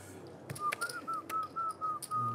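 A person whistles at a poker table: a short, wavering, casual melody of several clear notes, with faint table clatter and room noise behind it.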